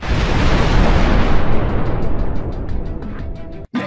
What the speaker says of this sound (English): and Willow blows up